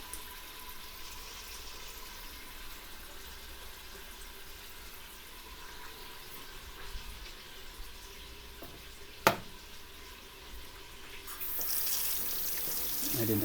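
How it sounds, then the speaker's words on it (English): Running tap water at a kitchen sink while hands are washed during pork stew cooking, a steady faint rush with a brief clunk near the middle and the flow strengthening toward the end. "And we will wash our hands again."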